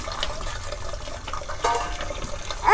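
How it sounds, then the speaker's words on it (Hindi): Starchy water drains off cooked rice in a steady, close pouring and splashing rush that stays continuous and swells near the end, with no voices. "देखिए चावल अभी पसा रही है"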